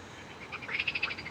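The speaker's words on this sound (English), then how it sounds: "Can hear the frogs." Frogs croak at night by a carp fishing lake, a quick run of about six rhythmic, faint croaks heard on their own in a quiet setting.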